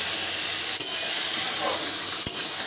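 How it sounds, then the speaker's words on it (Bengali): Chicken frying in a pan gives a steady, close sizzle throughout, with two sharp clicks or taps from stirring cutting through it. No one speaks. "আমি জাস্ট একটুখানি চিকেনটা রান্না করছি।"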